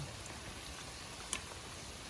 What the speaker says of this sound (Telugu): బయట నుంచి చేద్దామంటే వర్షం